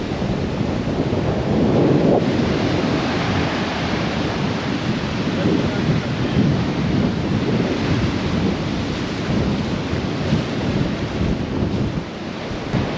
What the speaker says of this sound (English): And just check out these waves, guys. It's ridiculous.